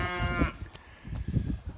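Black Angus bred cows and a heifer in a barn give a loud, close, drawn-out moo, followed by shuffling and low rumbling movement noises.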